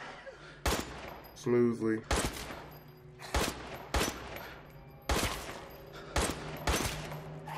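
Gunfire in the horror video game Resident Evil Village rings out as a series of sharp, loud single shots spaced irregularly about a second apart, with someone briefly talking between them.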